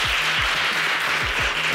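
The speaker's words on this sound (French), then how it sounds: "Je pense qu'on peut lui donner une bonne main d'applaudissement." Applause from a conference audience, a dense, steady wash of many hands clapping together at close range, continuing evenly for the whole short stretch without pause.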